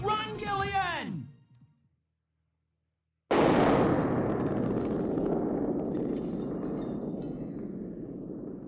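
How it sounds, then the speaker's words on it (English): Explosions in a corridor in the Snatcher video game: a voice speaks, a short silence follows, then a sudden loud blast opens into a long, heavy rumble that slowly fades. "Kojima does love his exploding corridors"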